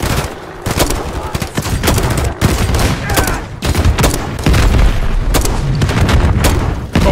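Heavy sustained gunfire in the video game Call of Duty Modern Warfare 3, loud overlapping bursts and booms hammering almost nonstop in a chaotic battle.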